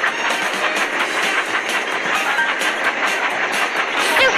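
Steady rolling train noise from a children's mobile video game, a continuous rumble with faint rhythmic clatter and hiss running at even loudness throughout, with no talking.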